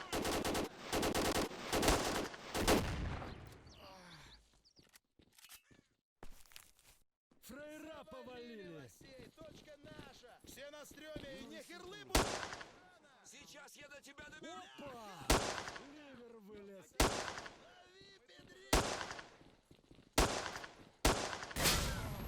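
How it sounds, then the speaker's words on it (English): Bursts of automatic rifle fire and a grenade blast in the S.T.A.L.K.E.R.: Shadow of Chernobyl OGSE mod, loud clustered volleys at the start and scattered sharp shots later, with someone talking between and over the firing. "Oh my god, that was an amazing grenade."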